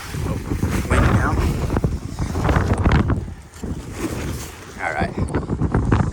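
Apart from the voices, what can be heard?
strong wind during on-land kite flight test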